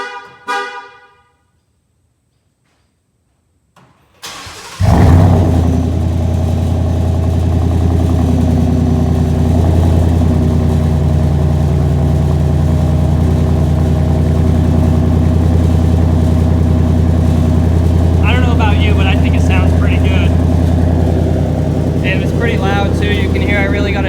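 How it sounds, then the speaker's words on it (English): A Ford F-150 with a Flowmaster Outlaw exhaust cold-starts after a brief starter crank, then settles into a loud, deep, steady idle rumble close by, with short bursts of voice-like sound over the engine near the end. "we can go ahead and hear a cold start on it."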